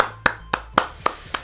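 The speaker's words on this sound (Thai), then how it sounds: "ปรบมือ" Five sharp hand claps ring out in an even, fairly quick rhythm, close and distinct, with nothing else heard.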